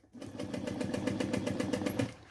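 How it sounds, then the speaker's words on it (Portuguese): A sewing machine runs a thin seam on a camisole, its steady rapid stitching whirr going continuously for about two seconds at close range with no talk. "Vamos até onde a máquina consegue costurar."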